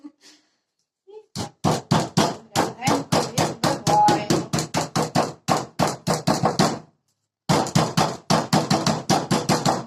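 Rapid, loud wooden pounding, a meat mallet striking a cutting board in a steady rhythm for several seconds, a brief pause, then another burst of blows.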